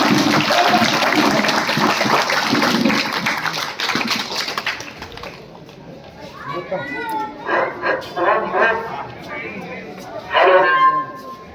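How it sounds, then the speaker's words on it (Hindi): Villagers in a rural gathering give loud, sustained clapping for a welcome, mixed with children's voices and crowd chatter, then the applause fades and scattered voices and shouts continue. "डॉक्टर साहब को जोरदार तालियों से स्वागत।"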